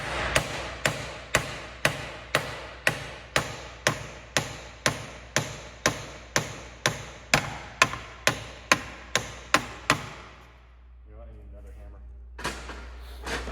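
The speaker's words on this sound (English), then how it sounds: "Double hammers." Two hammers strike metal together in a steady, even series of about twenty sharp, ringing blows close by, then stop. Brief shuffling and a few final knocks follow.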